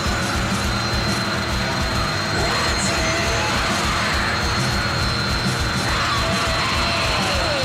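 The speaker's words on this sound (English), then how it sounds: "just watching a washing machine spin up" A washing machine at an off-grid home spinning up, giving a steady, airplane-like roaring whine with a constant high tone that holds loud and even throughout, with no talking.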